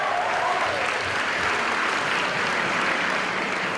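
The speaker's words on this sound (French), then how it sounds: "Applaudissements" A crowd at a game show convention in Toulouse breaks into applause, a dense continuous clapping from a large audience in a hall, steady and fairly loud for several seconds.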